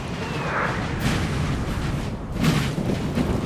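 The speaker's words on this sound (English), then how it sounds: "Prussia there getting a few shots off of musketeers." Musket fire on a Napoleonic battlefield in the video game Napoleon Total War, with Prussian musketeers shooting: a continuous rumbling crackle of distant volleys swelling into two louder bursts, with no talking.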